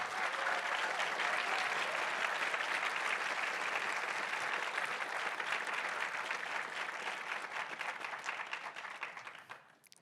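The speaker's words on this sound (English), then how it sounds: "Please, let's give him a round of applause." Sustained applause from an audience honoring a distinguished research lecturer, dense and steady for about eight seconds before tapering off and stopping at the end.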